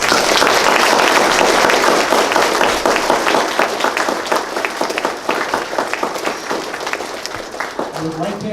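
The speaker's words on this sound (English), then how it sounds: "one more round of applause for our Eagles." A large audience applauds Eagle Scouts at a troop court of honor, with loud, dense, sustained clapping that gradually thins toward the end as a voice begins to speak.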